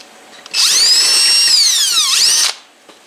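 A power drill enlarges a hole in the dash cluster of a 1973 K10 truck, one continuous high-pitched whine for about two seconds that rises, dips sharply near the end and then cuts off, loud and close.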